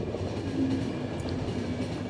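Train running on rails in the video game The Final Station, a continuous low rumble of wheels on track with a steady mechanical drone, loud and close, with no talk.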